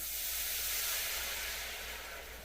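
Red wine poured into a smoking-hot pan while cooking steak bites sets off a loud, broad steam hiss that holds steady and fades slightly toward the end, with no voices.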